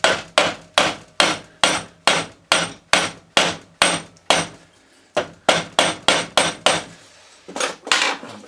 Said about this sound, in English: We'll just see if it comes out easy with a rubber mallet